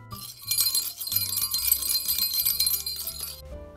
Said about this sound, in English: Our bell can now jingle jangle.